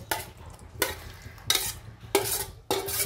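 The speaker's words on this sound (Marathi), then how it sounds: "फक्त हा चमचा म्हणा पळी म्हणा तर त्यानं पाक हलवत राहायचा आणि घट्ट करायचा." A spoon or ladle scrapes and stirs thickening sugar syrup for a lemon pickle, in four distinct bursts of metallic scraping separated by short pauses, close and fairly quiet.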